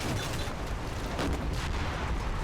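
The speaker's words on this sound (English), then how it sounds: "You all know some large explosions going on here" Explosions and artillery fire from the Normandy wargame Combat Mission: Battle for Normandy form a dense, continuous rumble with repeated muffled booms, loud and unbroken, with no talk.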